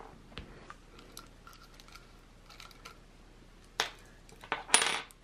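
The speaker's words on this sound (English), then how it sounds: "we're going to go ahead and get a screwdriver here and pull this cam arm off" A screwdriver works a cam arm off an RV CH751 key lock, giving soft scattered metallic ticks and clicks that end in a couple of sharper, louder clanks, close up and without talk.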